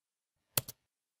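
Two quick, crisp key presses on a computer keyboard, Alt then Enter, land almost together in an otherwise silent room, close and clean.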